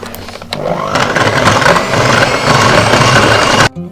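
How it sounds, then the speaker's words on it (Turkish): Egg yolks being whisked for a cocoa sponge cake batter in a ship's galley, a steady, busy motor-like whirring that runs close and continuous for about three seconds before cutting off abruptly. "Yumurtamızın sarısını ilave ettikten sonra yaklaşık bir dakika çırpacağım."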